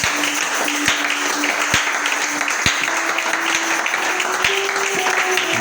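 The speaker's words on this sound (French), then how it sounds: "Est-ce qu'on peut acclamer pour notre Seigneur?" A church congregation applauds and cheers during a French-language Sunday service, a dense, even wash of clapping with a few sharp louder claps punctuating it, under faint voices.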